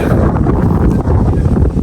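Heavy, gusty wind buffets the microphone, producing a loud continuous rumble with no talking.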